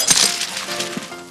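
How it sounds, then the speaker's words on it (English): A sugar glass prop bottle shatters in a bright, crisp crack, followed by scattered tinkling and clinking of falling shards and a second sharp glassy hit near the end. "that bottle was made of sugar glass"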